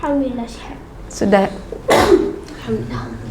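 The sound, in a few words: a child sneezing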